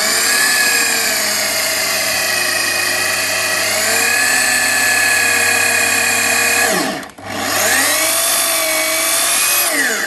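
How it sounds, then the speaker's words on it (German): A power drill bores steadily through the floor of a Weinsberg Pepper camper van, whining loudly and evenly, then briefly cuts out before spinning back up to full speed. "ich bohre jetzt von oben 35 und unten dann mit 29 auf."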